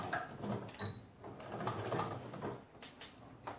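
A sewing machine runs a basic stitch to fasten small fabric tabs on a layered patchwork coaster, a steady mechanical whir with light rhythmic clatter, fairly close throughout.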